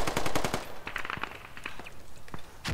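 Bursts of automatic gunfire from the tactical shooter game Squad, rapid sharp cracks clustered at the start, then scattered shots and distant firing with a loud burst at the end.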